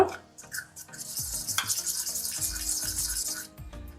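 A spoon scrapes and rubs around a small bowl while mixing a thick paste with water for cleaning silverware, in irregular strokes of wet grinding, close up and without talk.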